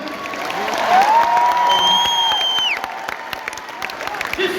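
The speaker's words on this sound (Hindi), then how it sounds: "तालियां कम है" Audience applause at a Delhi success-day gathering, a broad steady patter of clapping hands from a crowd that thins out after about three seconds, with tonal sweeps and faint voices layered above it.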